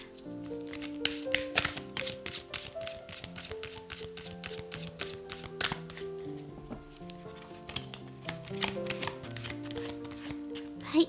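Tarot color cards are shuffled and drawn by hand, a run of quick, close riffling taps and slaps over soft music, with a louder card snap at the end.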